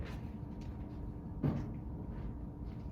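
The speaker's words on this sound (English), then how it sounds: "I'm going to close this door" A door swings shut with a single dull thud midway through, set against a low, steady room rumble and no talking.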